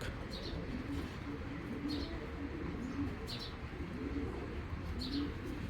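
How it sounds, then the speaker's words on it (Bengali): A pigeon of an old breed coos softly in a repeating low rhythm, with a few faint chirps over steady background noise. "এটা একটা কবুতর পুরান জাতের যে কাজ ভাঙা সবুজগুলো আছে"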